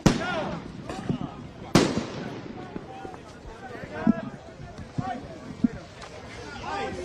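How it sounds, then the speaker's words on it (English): Sharp, loud gunshot-like bangs ring out at intervals, with one big report near the start and several smaller pops later, over a noisy outdoor crowd with people talking. "They're firing some type of warning shots here."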